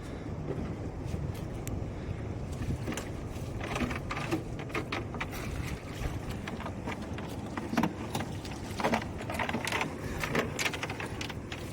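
A small fishing boat at sea among large waves near coastal rocks, with a steady roar of wind and water and scattered clattering knocks from the hull and gear throughout.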